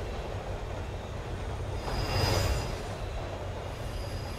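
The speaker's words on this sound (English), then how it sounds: "This isn't making me like trains." Train rolling on rails in the horror game Train 113, a steady loud rumble of wheels with a rising metallic squeal near the middle, no voices.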